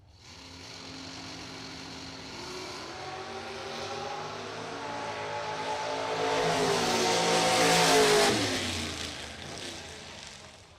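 At a bracket drag racing event, a race car launches down the strip, its engine roar building steadily in pitch and loudness as it accelerates, peaking near the end before fading away.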